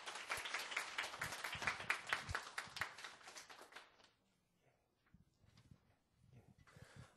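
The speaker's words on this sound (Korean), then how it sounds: "큰 박수로 모시겠습니다" Audience applause at a corporate book concert, a dense patter of clapping for about four seconds that fades out, followed by scattered faint taps and low room noise.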